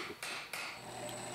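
Center punch struck into an aluminum plate to mark hole centers, a couple of sharp metallic taps close by in a quiet workshop, no talking.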